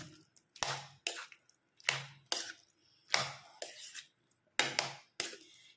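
Spoon stirring curd into ash gourd pachadi in a bowl, giving a series of short, wet, squishy scrapes and clinks in an irregular rhythm, close up with no talking.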